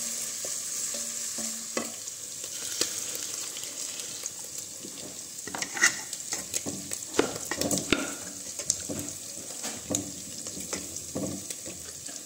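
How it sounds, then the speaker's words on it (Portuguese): Meat fries in a pan of hot fat, a close, steady sizzle broken by scraping and clinking as it is stirred. "Aí eu vou deixar dar uma fritada aqui primeiro, pra depois eu vim com o tempero"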